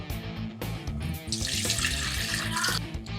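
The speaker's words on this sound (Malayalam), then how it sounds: "നമ്മൾ കൈ വെച്ച് നെല്ലിക്കയുടെ വെള്ളം ഊറ്റിയെടുക്കുവാണ്" Water drains and splashes steadily into a sink as pickled gooseberries are squeezed by hand, a continuous close-up trickle with a brighter hiss building midway.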